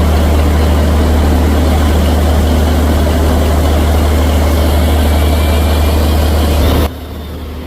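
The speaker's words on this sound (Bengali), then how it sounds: "ডান পাশের ইঞ্জিনকে নয়শো পঁচাত্তর আরপিএম আর বাম পাশের ইঞ্জিনকে চারশো নয় আরপিএমে চালানো হচ্ছে" The engines of the passenger launch MV Karnafuli-3 run at a steady, loud, low drone. One is at 975 rpm and the other at 409 rpm. The rumble continues unbroken, then drops sharply at the end.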